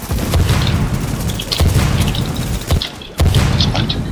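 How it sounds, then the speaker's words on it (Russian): Grenade blasts in The Division game, several heavy booms going off one after another, loud and close, each with a sharp onset and a rumbling tail, the densest burst coming near the end. "Кидать гранаты. Гранаты, народ."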